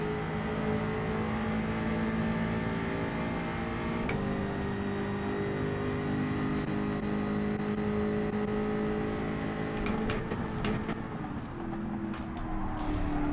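Group 4 race cars, a McLaren and a Jaguar, in Gran Turismo 7 at Catalunya, a steady droning engine whine with shifting pitch through the race, continuous and without talk.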